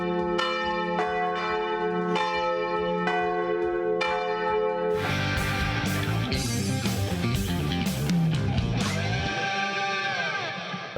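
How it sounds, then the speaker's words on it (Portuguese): A church bell rings in steady, evenly spaced strokes, loud and ringing, before a dense clangour of overlapping peals takes over and then fades. "Tava imaginando o índio puxando o sino lá"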